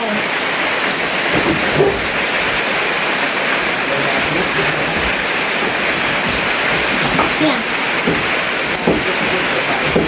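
Heavy rain pours down in a dense, steady hiss that stays loud and unbroken throughout, with no pauses or rises.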